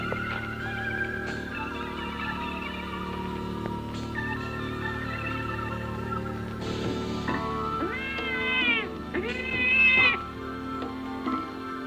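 A cat meows repeatedly in a film scene set in a convent, the cries rising in loudness toward the end over a steady background hum.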